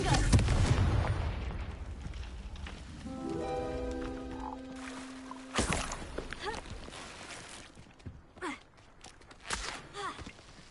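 A fiery Confringo spell blast in Hogwarts Legacy: a sharp burst with a crackling magical tone, then a few scattered thumps and impacts, moderately loud against quiet game ambience.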